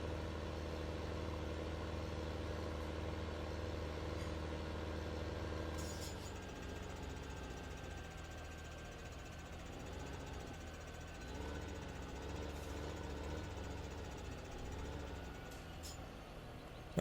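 A tractor engine idles in Farming Simulator 2015: a steady low mechanical hum, then the tone shifts and thins midway as it settles into a softer, slightly wavering rumble, with no talk.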